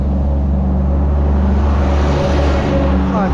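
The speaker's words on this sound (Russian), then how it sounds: "А, это обычный КамАЗ." KamAZ truck rolling past on a road near Lahdenpohja in Karelia, a loud, close, heavy engine drone with a deep low rumble that holds steady across the whole stretch.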